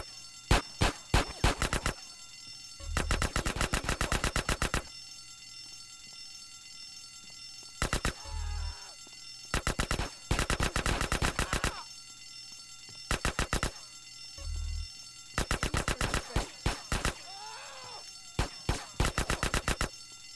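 Repeated bursts of automatic gunfire in the video game Grand Theft Auto: San Andreas, rapid rattling volleys separated by short pauses, with a few single shots, loud and close, no talk.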